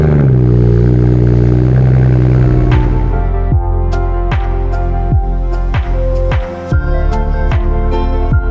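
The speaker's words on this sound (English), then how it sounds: "let's go for a cold start" A BMW car engine starts from cold on a freezing 32-degree day: a starter crank, then the engine catches and settles into a loud, steady idle with a few revving surges, close and alone.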